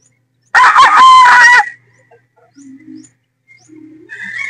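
A pure Boston Roundhead rooster gives one loud, close crow lasting about a second, followed by soft scattered clucks and chirps from nearby fowl.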